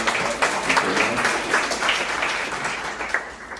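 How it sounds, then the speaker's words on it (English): Audience applause at a keynote address for Halton elementary occasional teachers, a steady wash of many hands clapping in a large room that swells and eases over a few seconds. "I want everyone to give a round of applause to Halton for keeping that going, that we have a well-being program."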